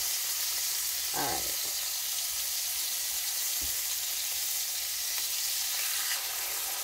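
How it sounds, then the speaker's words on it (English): Cod fish fillets sear in a hot pan with a steady, loud sizzle and a faint clink or two of a utensil, with no voices. "I'm just going to sear these on both sides."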